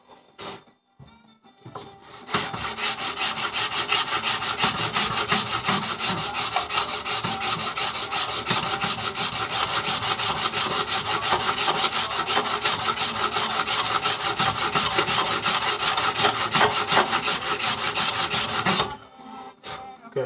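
A steel chisel back is flattened by hand on heavy-grit sandpaper, with continuous rapid rhythmic rasping strokes that are close and loud, starting after a few brief scrapes and stopping abruptly near the end.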